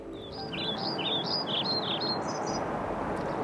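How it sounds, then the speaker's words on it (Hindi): Birds chirping outdoors near the sea, a string of quick, high, repeated calls over a steady backdrop of surf and wind, with the calls stopping partway through. "कुछ पक्षी चहचहा रहे हैं"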